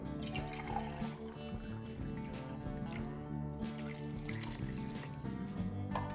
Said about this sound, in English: now I'm going to add 1 can of water